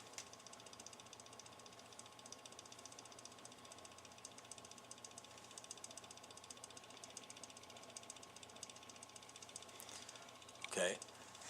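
Upper fast rotor motor of a Leslie 122 speaker cabinet running steadily: a constant, fairly quiet mechanical hum with a fine rattling texture throughout, and one brief louder knock near the end.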